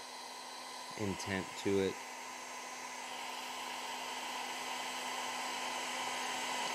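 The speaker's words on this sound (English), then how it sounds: "I'll move my blow dryer so you can kind of see." Blow dryer drying an alcohol ink painting: a steady, close whooshing hum that runs continuously, with someone speaking briefly over it near the start.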